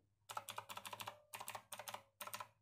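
Clicky blue-switch keys on a Marvo Scorpion KG909 mechanical keyboard clatter in four quick bursts of rapid typing, with short pauses between them.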